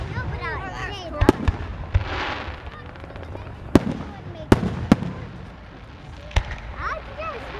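Fireworks at a Bay City display burst as sharp, loud bangs at irregular intervals, several in quick succession, over crowd noise, scattered chatter and honking in the background.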